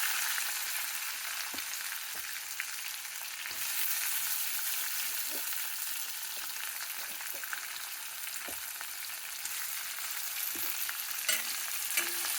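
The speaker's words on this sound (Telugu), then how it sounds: "మీకు తెలుసు కదా, ఉల్లిపాయలు ఎర్రగా వేగాలి." Onions fry in hot oil with cumin, mustard seeds and curry leaves in a pan, giving a steady close hiss with occasional crackles and light stirring taps, no talking.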